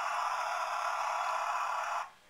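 An electronic drill sound effect from a Transformers Energon Optimus Prime toy buzzes as a steady, loud whine for about two seconds, then cuts off abruptly.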